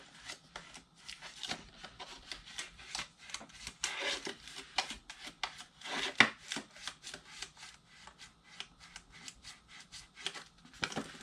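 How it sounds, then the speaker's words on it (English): Bone folder pressed and rubbed over folded paper notecards for a boxed mini notecard set, a close, quiet run of quick scraping and tapping strokes with small paper rustles, no talking. "And then I'll come back with my bone folder"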